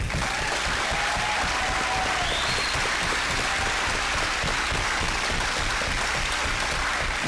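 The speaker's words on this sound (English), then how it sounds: "Let's give them a round of applause." Audience at a gubernatorial campaign debate applauds the candidates, a dense, loud burst of many hands clapping that holds steady throughout with faint crowd murmur beneath.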